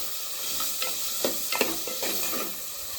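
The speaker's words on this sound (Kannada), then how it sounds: "ನೋಡಿ, ಈ ರೀತಿ ಫುಲ್ ಚೆನ್ನಾಗಿ ನೀವು ಇದನ್ನು ಫ್ರೈ ಮಾಡಬೇಕು." Ginger and spices fry in a pan for crab curry, a steady close sizzle broken by scraping stirs and soft clacks of the spoon, with no talking.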